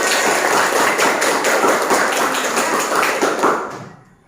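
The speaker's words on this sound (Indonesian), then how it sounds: "Tepuk tangan." A classroom of students claps hands together in a brisk, close round of applause for a presenting group, lasting a few seconds before quickly dying away into silence.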